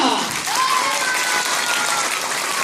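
A group at a children's taekwondo promotion test claps together for a young student, steady close applause filling the short moment with a few voices mixed in.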